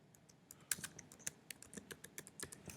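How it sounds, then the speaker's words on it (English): Irregular bursts of keyboard typing, key clicks coming close together with uneven pauses, fairly near and moderately loud, no voices. "I need to work on my typing here"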